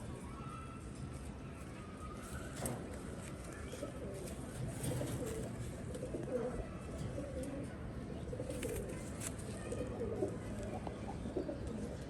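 Pigeons coo softly and repeatedly over a steady murmur of background noise, the calls fairly faint and mixed with occasional chirps.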